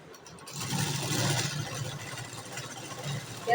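A sewing machine stitching a folded sleeve along its marked line, a close, steady whirring run of the motor and needle that rises and holds, ending in a short louder bump.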